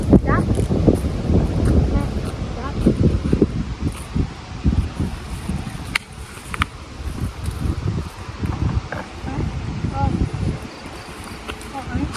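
Wind gusting and buffeting the microphone outdoors on a clear day while fishing, a steady rushing roar with leafy rustle throughout, with people talking over it.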